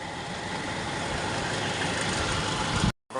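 A car engine runs at idle close by, a steady even rumble that holds throughout, then breaks off briefly near the end.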